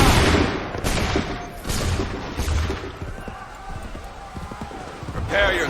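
Musket volleys crack out in Assassin's Creed III Remastered, several loud, dense bursts of massed gunfire with ragged overlapping shots, mixed with shouted commands and battlefield noise.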